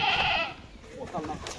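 A goat gives a loud, close bleat while goats are being loaded onto a vehicle, followed by fainter bleats and people talking nearby.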